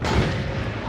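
A single heavy, booming shot from a sniper in a video game lands close and loud, then decays into a low rumble.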